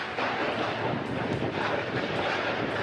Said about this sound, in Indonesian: Suasana dramatis terjadi saat angin kencang menerjang kawasan Tiban, Batam, Kepulauan Riau, Senin siang.